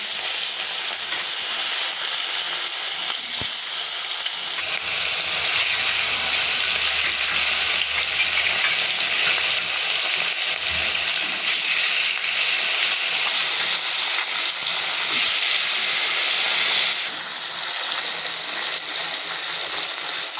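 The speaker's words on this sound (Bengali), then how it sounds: "তেলটা গরম হয়ে গেছে, এবার আমি মাছগুলোকে ভেজে নিচ্ছি।" Rohu fish rubbed with salt and turmeric fries in hot oil in a wok, giving a loud, steady sizzle that crackles and hisses continuously throughout, with no one speaking.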